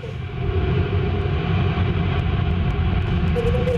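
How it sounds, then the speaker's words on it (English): An Arianespace rocket's Vulcan engine igniting at launch, a loud, constant low roar that swells within the first half second and then holds as a steady, heavy rumble. "Allumage Vulcan."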